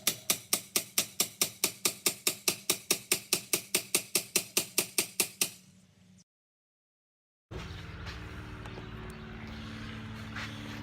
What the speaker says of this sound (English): Alright, just gonna pound these bolts in.